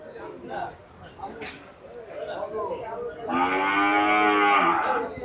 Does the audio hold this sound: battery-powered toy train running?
no